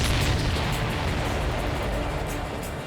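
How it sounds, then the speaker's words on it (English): Enemy supply ship exploding in the Ace Combat 7 flight game, a loud sustained rumbling blast with dense low-end roar that slowly tapers over a few seconds. "Did you see that explosion?"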